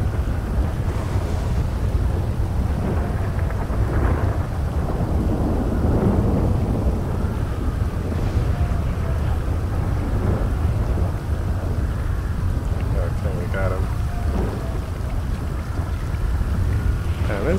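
Thunderstorm in the video game GTA 5, with rain, wind and low rolling thunder rumbling continuously and loudly throughout, no talk over it.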